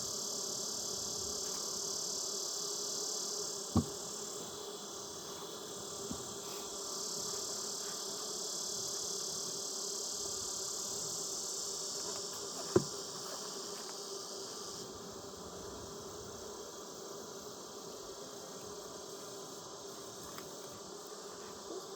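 Honeybees buzzing in an open hive during a frame inspection, a continuous steady drone heard close and alone throughout, with a few faint knocks from handling.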